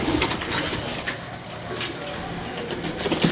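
A racing pigeon coos while being held and handled for a fitness check, heard close up under steady background noise and a man's speech.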